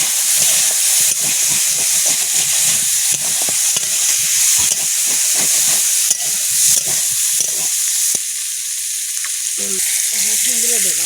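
Hot cooking of river crab with Malabar spinach gives a loud, close, steady hiss and sizzle after the pot lid is lifted, with stirring clatter throughout and a voice near the end.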